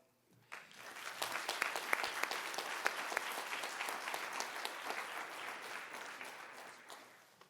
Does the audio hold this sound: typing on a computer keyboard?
no